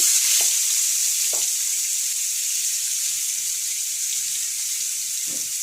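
Dried red chilies, whole cumin, bay leaf and ginger paste fry in hot oil for a spicy duck curry, a loud, steady close sizzle with a few soft stirring clicks and no talking.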